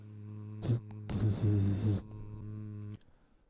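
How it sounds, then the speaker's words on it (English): A steady low factory background hum drones throughout as a sound effect, with louder noisy bursts layered over it partway through before it thins out at the end. "So that hum is supposed to be representing the background hum in the factory."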